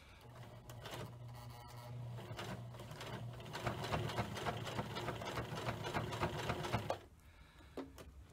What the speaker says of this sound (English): my machine is sewing this at three layers thick